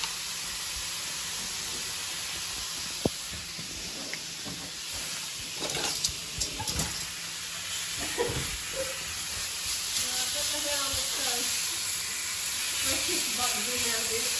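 Meat browns in a hot pan for chilli con carne, giving a steady sizzling hiss with occasional crackles and stirring, while a voice talks briefly in the middle.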